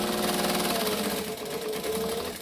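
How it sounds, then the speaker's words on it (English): A sewing machine stitches along a bowler bag in a steady, close, continuous whir with no talking over it. "And then I'm just going to sew along."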